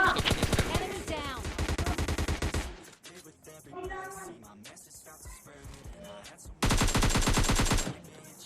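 Rapid automatic gunfire from the PUBG Lite battle royale game comes in two loud bursts, one at the start and one near the end, with softer game sounds and faint speech-like noise in the gap between them.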